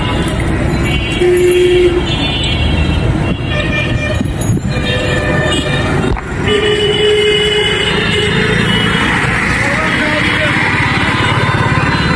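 A train rumbles and clatters loudly nearby with a brief horn toot, amid station noise and voices, at a railway station in Dhaka.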